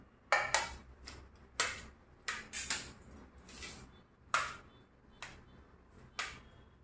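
A spoon chops boiled potatoes into small pieces, making about eight sharp, close taps against the dish at an irregular pace, with quiet gaps between them and no voices.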